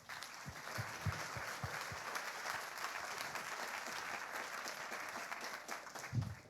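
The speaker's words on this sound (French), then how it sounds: "on peut les applaudir, je pense." Audience at an entrepreneurship awards ceremony applauds in a soft, steady wash of clapping, with a few louder nearby claps and faint thumps standing out at the start and near the end.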